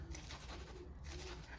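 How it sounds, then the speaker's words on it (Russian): Pigeons cooing on an air conditioner unit outside a window, a soft low repeated cooing over a steady hum of background noise, continuous throughout without any voices. "Ой, голуби прилетели на кондиционер. Воркуют мне там."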